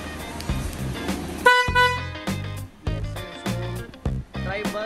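An electric vehicle's horn is tested, sounding in several short honks and toots of varied length with brief gaps between them, fairly close and loud.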